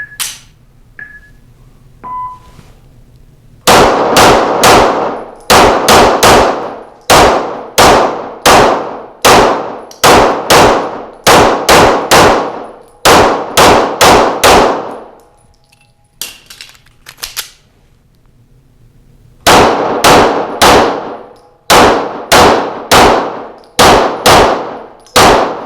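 Rapid Walther PDP pistol shots ringing off moving steel targets, sharp metallic clangs in quick bursts of several hits with brief pauses between strings, loud and close.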